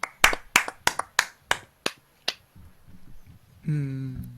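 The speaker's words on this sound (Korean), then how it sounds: "박수 한번 쳐드릴게요" Nine sharp hand claps in a quick, slightly uneven burst, close and loud, from someone giving congratulatory applause during a football-management game commentary; quiet murmuring follows, then a voice enters at the end.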